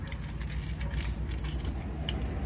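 Car keys jangling near a Box Chevy, a busy metallic clinking and rattling that runs the whole time over a low rumble, close and fairly loud, with no talking.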